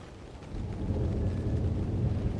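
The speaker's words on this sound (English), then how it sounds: "The sound of the rain, now a gentle serenade rather than a taunting challenge." Rain and thunder in a bedtime-story soundscape: a soft, steady rain hiss under a low, distant thunder rumble that swells after a moment and keeps rolling.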